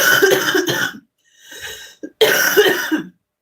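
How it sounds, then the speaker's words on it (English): Two bursts of harsh, close coughing with a brief breathy pause and throat noise between them. "excuse me for any and all coughs"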